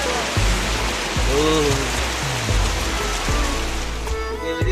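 Dense, heavy rain roars steadily in Mokokchung, Nagaland, a loud constant wash of noise with a few low thumps and faint tones beneath it.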